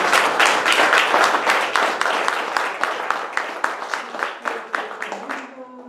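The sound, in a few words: audience applause in a theatre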